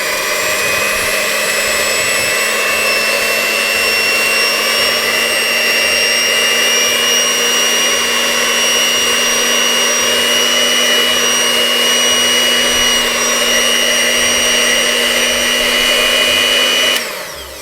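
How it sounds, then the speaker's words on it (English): An electric mixer on its slow setting whisks red velvet cake batter from a Dr Oetker packet mix, a loud, steady motor whine that holds unbroken for about seventeen seconds and then stops. "we're going to be using our electric mixer this time just to keep the lightness in it"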